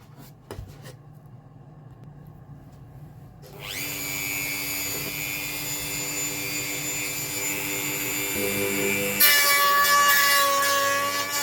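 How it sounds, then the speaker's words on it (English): Dremel rotary tool grinding inside a Tasmanian blackheart sassafras guitar body, a high steady whine that rises in pitch after a quiet start and grows louder toward the end, close and alone. "Opened it up just enough to be able to get my Dremel tool to work in there."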